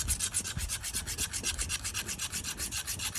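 An old hand sickle, a scythe-type blade, sharpened with a Sharpens Best hand sharpener: steady, rhythmic rasping strokes scrape along the edge in quick back-and-forth succession, close and fairly loud with no talking.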